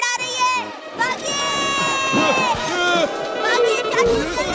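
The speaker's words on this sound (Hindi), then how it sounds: "पीछे देखिए भीड़ आ रही है।" A cartoon mob gives chase with a loud, busy clamour of many shouting voices and running, yells and cries overlapping continuously over a musical backdrop.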